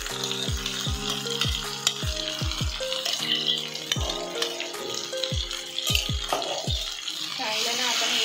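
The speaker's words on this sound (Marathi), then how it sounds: "ते सुद्धा आपण आहे ना तेलामध्ये चांगलं फ्राय करून घेऊया" Ground corn kernel paste frying in oil for a vegetable puff dish, a close sizzle under repeated knocks of a spoon against the pan, interspersed with low background voices.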